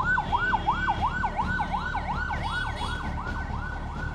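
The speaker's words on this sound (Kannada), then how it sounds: "ಹಿಂಗೆ ಆಂಬ್ಯುಲೆನ್ಸ್ಗಳು ಸಿಕ್ಕಾಕೊಳ್ಳೋದು ಇವೆಲ್ಲ ಮಾಮೂಲಿ ಆಗ್ಬಿಟ್ಟಿದೆ ಇಲ್ಲಿ" A wailing ambulance siren sweeps up and down repeatedly and loudly, stuck in traffic, over the low rumble of engines and idling vehicles near Minerva Circle on JC Road, Bengaluru.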